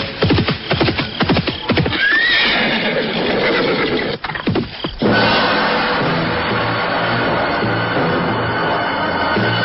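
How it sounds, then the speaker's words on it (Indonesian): Horse whinnies and neighs over clip-clopping hoofbeats at nightfall, a rapid patter of hooves drawing closer and then settling into a steady rumble of movement, loud and close with no voices. "telinganya menangkap derap kuda makin lama makin dekat"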